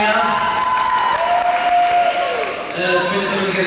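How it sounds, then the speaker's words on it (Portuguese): Audience applause at the Coliseu in Lisbon after a university student music group's concert, steady loud clapping filling the hall with some cheers. "sabe bem ouvir estas coisas e esses aplausos"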